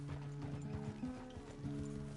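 A horse in Red Dead Redemption 2 whinnies under a rider, with a brief neigh and rhythmic clip-clop of hooves, close and moderately loud.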